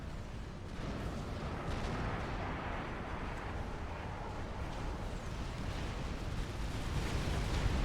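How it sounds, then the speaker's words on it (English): Spearhead missile launchers fire in the Supreme Commander strategy game, giving a dense, continuous rumble of launches and explosions that stays loud and steady throughout, with no speech. "You can see them loading there when they fire."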